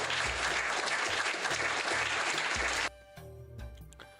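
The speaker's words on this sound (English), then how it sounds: "I'll play the applause first." Loud, dense applause from a crowd fills the first three seconds, then cuts off abruptly, leaving quieter background music with a steady beat.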